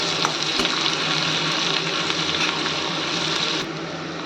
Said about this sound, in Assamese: এতিয়া এইখিনি কিছু সময় মই এনেকৈ লৰাই ভাজি থাকিম